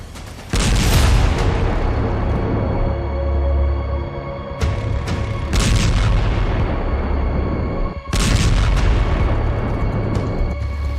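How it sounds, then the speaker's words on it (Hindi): Heavy, rumbling blasts of explosions in Beirut boom one after another with sharp bursts at the start and near the end, loud and continuous with a roaring low rumble. "बेरूत में भीषण धमाके, मारे हिजबुल्लाह के 30 कमांडर।"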